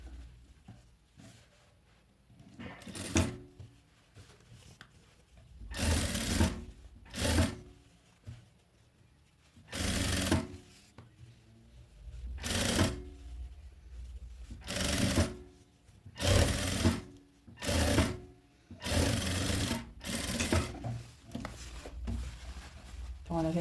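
A sewing machine stitches the side seam of a child's dungarees in short, separate bursts with quiet gaps between each run.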